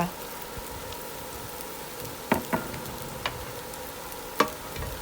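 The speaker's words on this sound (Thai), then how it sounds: "แล้วก็ผัดคลุกคลุกเขาให้เขาเข้ากันนิดนึง" Sea bass with chili and salt being stir-fried and tossed in a pan, a steady soft sizzle broken by a few sharp clanks of the utensil against the pan, close and moderately quiet.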